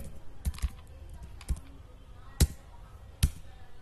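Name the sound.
typing on a computer keyboard into Excel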